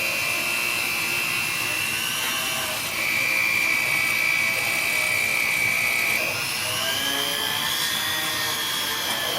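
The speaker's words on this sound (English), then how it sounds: "It's just, a soft buffing wheel, but it will shine them up real well." A soft buffing wheel polishes the frets of a Fender Stratocaster, giving a steady, close, high-pitched whine that rises briefly in pitch midway and holds continuously with no talking.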